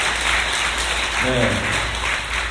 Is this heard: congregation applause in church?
yes